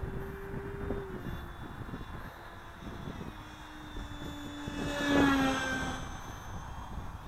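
A GeeBee model airplane flies overhead, its small engine a faint droning whine that rises briefly as it passes closer, heard outdoors against wind.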